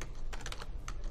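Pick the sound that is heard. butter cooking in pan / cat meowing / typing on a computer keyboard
typing on a computer keyboard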